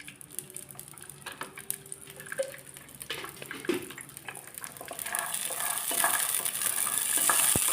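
Green peas roasting in a little oil in a pan give a soft, steady sizzle with occasional stirring scrapes, growing louder and brighter toward the end.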